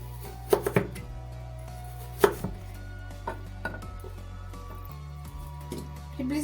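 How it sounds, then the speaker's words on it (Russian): Carrots and cabbage are chopped on a board with a crinkle-cut knife, giving a series of sharp, irregular knife taps up close with quieter gaps between them. "Морковь и капусту режем приблизительно одинаковыми дольками."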